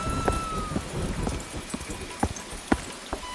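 Heavy rain comes down outdoors, with scattered sharp drops and splats striking hard surfaces over a constant wet hiss. Some impacts land close and loud, and nobody speaks.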